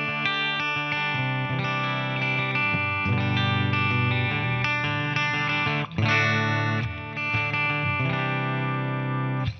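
Epiphone Les Paul electric guitar with a purple sparkle finish, played on a clean setting through a Marshall amp, ringing sustained chords and picked notes steadily for about ten seconds, with a brief break near the middle before strumming resumes.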